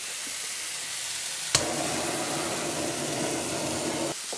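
Beef hits a hot frying pan with a sudden sizzle that settles into a steady, loud frying hiss, close by.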